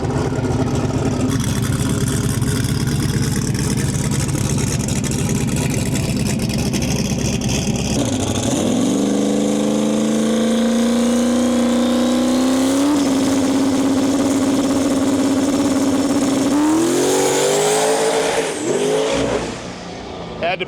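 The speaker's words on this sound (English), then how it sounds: "We're gonna get a solo pass for John Guglietta here in the Mustang" A Ford Mustang pro mod drag car makes a solo pass at a drag strip, its engine roaring loudly and climbing in pitch, easing and re-accelerating as the driver pedals, then cutting off abruptly near the end.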